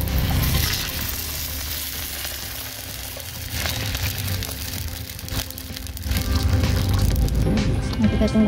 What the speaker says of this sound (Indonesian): Lalu kita tambahkan air.